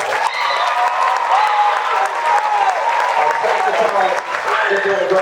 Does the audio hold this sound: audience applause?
yes